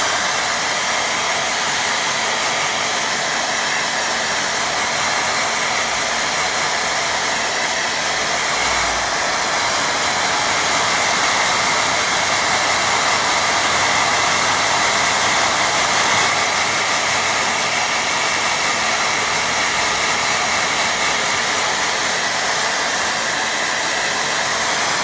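A hair dryer blows continuously at a steady, loud roar for about 25 seconds, drying small handmade sheep figures at close range.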